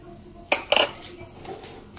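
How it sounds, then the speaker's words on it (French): Softened butter, sugar and vanilla are stirred in a bowl, heard as two or three quick metallic clinks and scrapes of a utensil against the dish, close and brief, then a soft fading swish. "Je vais un petit peu mélanger."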